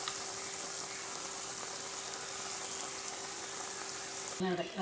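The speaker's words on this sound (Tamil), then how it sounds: "எண்ணெய் இப்படி கொதிக்கிறதெல்லாம் அது அடங்கிடுச்சு பாருங்கள்" Kuzhi paniyaram fry in hot oil in a paniyaram pan, giving a steady, even sizzle with a faint background hum throughout, ending with a brief clatter.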